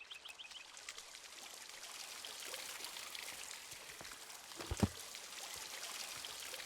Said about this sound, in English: I love the sound of water in caves